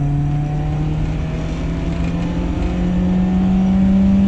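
BMW 318is accelerating hard off the line while racing an Audi, a loud, close engine drone climbing steadily in pitch as it pulls through the revs, heard from inside the car with no voices.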